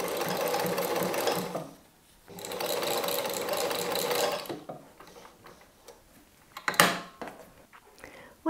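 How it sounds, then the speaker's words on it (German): Home sewing machine running a straight seam along a fabric edge, in two steady bursts of fast whirring stitches separated by a short pause, followed by quieter handling and a brief clack, with no talking. "Und wir nähen einmal entlang"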